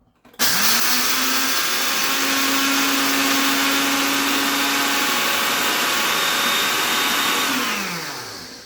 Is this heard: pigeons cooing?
no